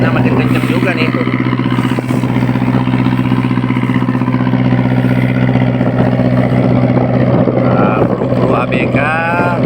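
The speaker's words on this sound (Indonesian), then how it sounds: "Wow, ombaknya makin kenceng juga nih tuh." Steady drone of a boat engine crossing strong sea waves, water rushing and splashing against the hull, wind buffeting the microphone, and a voice occasionally heard over it.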